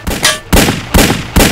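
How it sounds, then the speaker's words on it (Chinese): Four loud, sharp gunshots from a film scene, fired in quick succession about half a second apart, each with a short ringing tail. "子弹打光也没能打中。"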